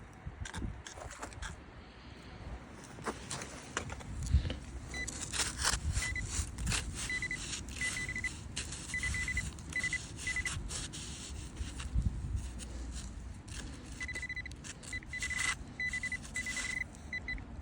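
A metal detector emits short, repeated high-pitched beeps in brief bursts, over quiet rustling and scraping of digging outdoors at night.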